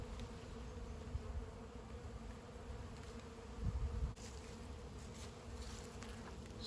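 Honeybees droning steadily around an open hive during the first inspection of the year, a continuous close buzz with occasional louder passes near the listener and no talking.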